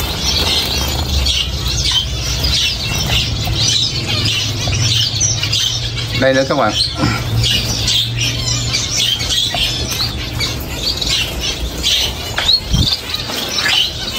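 Avadavats and Gouldian finches packed in a bird farm keep up a dense, continuous chorus of squeaky chirps and squawks nearby, with someone speaking briefly over the aviary noise.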